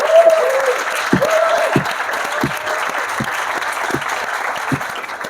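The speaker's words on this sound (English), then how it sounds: "I also want you guys to give a round of applause for FilmUSA and their incredible." An audience at a Cannes film industry panel on independent films breaks into sustained applause, a dense, steady wash of clapping with a few louder claps standing out near the front, continuing for several seconds without talk.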